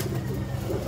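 Low, rolling coos from several pigeons in a garden blend together into a steady murmur, close and fairly loud.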